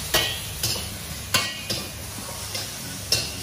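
Sauce being stirred and mixed into a stir-fried noodle dish in a pan, with a faint sizzle under a few distinct utensil clacks and scrapes spaced about half a second apart, close and fairly quiet.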